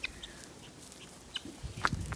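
Backyard chickens, just let out of their coop, give a few short clucks and squawks nearby against a quiet background.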